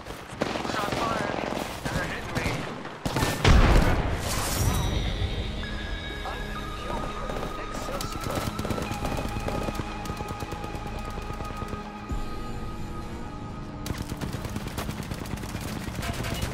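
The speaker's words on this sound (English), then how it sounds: "Shot fired." Sustained automatic gunfire in the battle royale game Apex Legends, dense rapid bursts with a loud explosive crash early on, close and continuous for most of the stretch, with a voice speaking over it.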